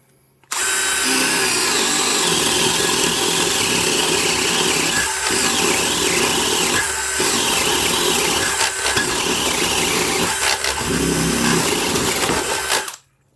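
DeWalt brushless 1/2-inch hammer drill bores steadily at 2,000 RPM in high gear with hammer mode off, a loud continuous whine and grind lasting about twelve seconds with a few brief dips in load.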